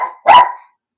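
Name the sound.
dogs barking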